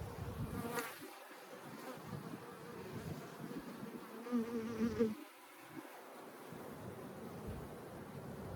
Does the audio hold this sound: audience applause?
no